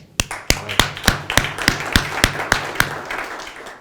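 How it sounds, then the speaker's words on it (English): At an entrepreneur sales seminar, the audience claps in a short burst of sharp, evenly spaced claps, loud and close, about three per second with no talk over them. "Round of applause."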